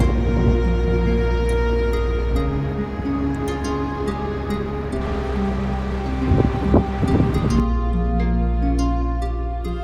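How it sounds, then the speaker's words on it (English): Strong wind roaring steadily across an exposed coastal headland on Ireland's Atlantic coast after a storm, a continuous heavy rush with gusts swelling, no voices. "it's extremely windy still"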